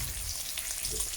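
Dry-cured bacon fries in a pan with a steady, crackling sizzle up close. No other sounds are heard.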